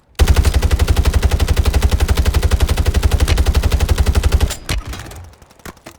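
New FJX Horus gun firing in Call of Duty Warzone 3: a loud, sustained rapid-fire automatic burst of evenly spaced shots for about four seconds, then stopping abruptly with a few faint trailing clatters.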